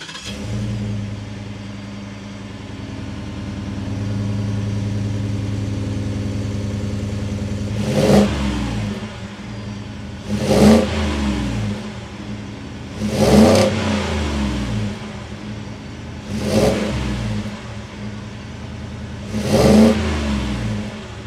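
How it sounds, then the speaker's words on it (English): A 2022 Ford F-150 Lariat's 5.0 Coyote V8 idles with a steady low rumble, then revs sharply five times in a regular rhythm, each loud burst of exhaust rising and falling back. "We have to hear that signature exhaust note."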